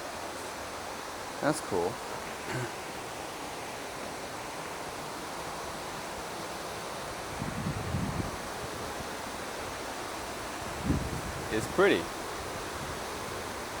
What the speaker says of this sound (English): It's a man-made little waterfall.